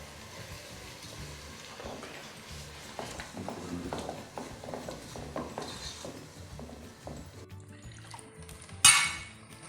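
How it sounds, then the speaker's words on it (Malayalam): A mixer grinder jar is rinsed and water is poured out in a kitchen while chicken roast masala cooks, giving a steady running, splashing wash with soft clinks, then a brief bright pour burst near the end. "മിക്സിയുടെ കപ്പൊക്കെ ഒന്ന് കഴുകി ഒഴിക്കാം"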